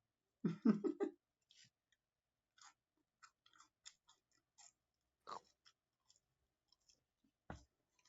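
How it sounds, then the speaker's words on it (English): Someone eats close to the microphone, a quick burst of crunchy bites followed by sparse, quieter chewing clicks spread across a mostly silent stretch. "Who is crunching?"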